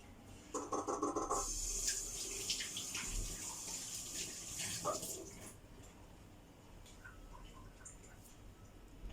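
Tap water running while hands are washed at a sink, a splashing stream loudest at first and then quieter, with faint rubbing and drips.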